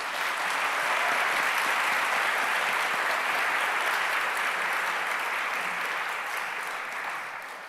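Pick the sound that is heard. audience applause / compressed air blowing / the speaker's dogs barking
audience applause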